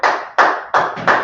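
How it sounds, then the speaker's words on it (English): Four sharp, evenly spaced claps ring out close and loud in a quick rhythm, with no voices over them, as an audience applauds a class. "Let's clap it up for the Lashawan Qadash class."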